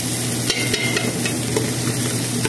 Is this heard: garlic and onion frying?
yes